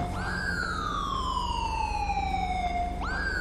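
An ambulance siren in GTA 5 wails loud and close, one long tone sliding slowly downward before jumping back up to restart, over a steady engine rumble.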